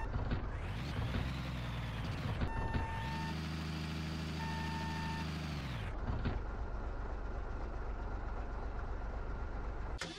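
Truck reversing beeps in the Hard Truck 18 Wheels of Steel video game, a short series of steady electronic tones over a loud droning engine that cuts off abruptly, followed by a lower rumble.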